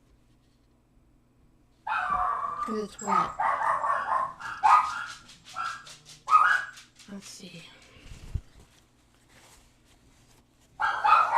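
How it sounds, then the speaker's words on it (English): Dogs bark and yip in the background while someone talks over a craft table where clear gesso is being painted onto teabag papers; the barking comes in short loud bursts with a pause in the middle. "I have dogs, so you will hear them in the background."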